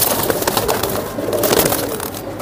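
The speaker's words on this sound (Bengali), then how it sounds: "মাশাআল্লাহ, ইয়াং কবুতর ভাই।" Young pigeons coo close by in a loft, a dense, continuous murmur of soft calls over a steady noisy background, with no voices.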